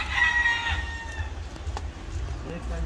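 Hens settled on their nests cluck and murmur in a poultry yard, a few faint crow-like calls mixed in, fairly close, with low background noise throughout.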